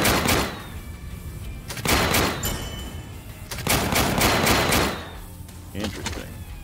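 Gunfire from units battling in the strategy video game Warpips: loud bursts of rapid shots in several waves, separated by brief lulls, with a dense, noisy battlefield texture throughout.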